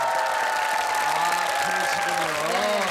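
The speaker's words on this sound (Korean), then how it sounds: "축하의 박수 다시 한번" A Korean TV studio audience claps for a married couple, a Marine Corps honor guard veteran and his wife, with dense applause running under a voice and tonal music throughout.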